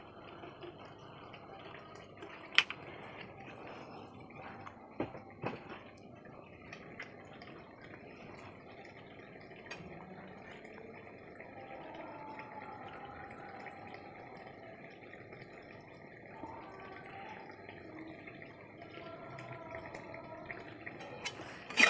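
Raw mustard oil trickles over steamed ridge gourd, a soft, quiet pouring and dripping that runs steadily in the background with a few small taps.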